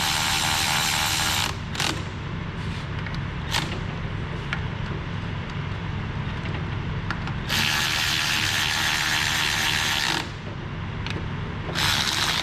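A power tool impact gun fastens bolts, with loud buzzing rattling bursts, a short one early and a longer one in the middle and end, between quieter stretches of clicking ratchet and mechanical noise.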